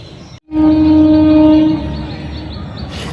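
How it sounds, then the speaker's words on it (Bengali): A train passes below the Mission Gate flyover in Ranaghat, opening with a loud, sustained horn blast after a brief cutoff, then a steady rumble of wagons fading slightly near the end. "এই ট্রেনেরও আওয়াজ আসছে দেখুন নিচ দিয়ে ট্রেন চলে আসছে"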